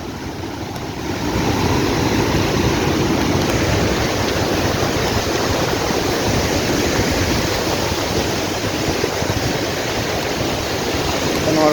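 Steady roar of water pouring and rushing at the Bhandardara reservoir, loud and continuous across the whole stretch, with faint voices beneath it.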